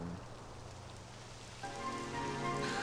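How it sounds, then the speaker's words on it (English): Steady rain in the video game Dragon Quest XI patters on a surface, a constant wash of droplets, with a brighter layer of tones joining partway through. "It would have to go and start raining, wouldn't it?"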